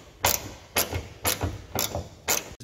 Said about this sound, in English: 12 millimeter socket, extension ratchet, this bolt right here.